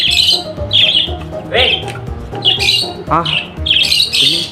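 A caged pet bird lets out repeated loud, harsh squawks in close succession, with a person's voice briefly heard alongside.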